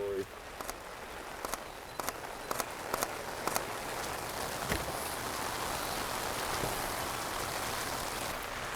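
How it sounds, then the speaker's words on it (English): Heavy rain pouring steadily at a marina in Birmingham, Alabama, a dense continuous hiss with a few sharp drips or taps early on, no voices. "it's pouring down rain"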